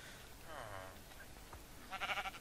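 A sheep in the Minecraft 1.9 snapshot bleats in a short wavering cry, followed a moment later by a brighter, choppier burst of game sounds, heard fairly close over a faint background.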